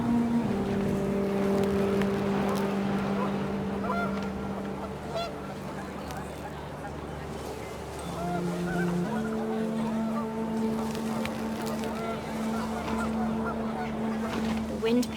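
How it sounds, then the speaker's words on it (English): Panicked geese honk in wind during a family photo scene in the video game What Remains of Edith Finch, a rough rushing wind bed with scattered honks over steady low tones. "The wind picked up, and panicked geese appeared and quickly went."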